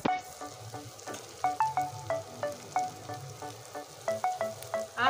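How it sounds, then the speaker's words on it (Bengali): Spices sizzling and sautéing in a pan for a fish curry with pabda fish and eggplant, a soft steady fry under repeated sharp metallic clinks of a spatula stirring the pan in an even rhythm. "এগুলো দিয়ে সুন্দর করে কষিয়ে নেব।"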